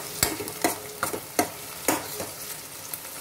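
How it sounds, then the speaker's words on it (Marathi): Peas are stirred into masala frying in a pan over a high gas flame, a soft sizzle beneath a run of close, uneven scraping strokes of a spoon. "वटाणे मिक्स करूया."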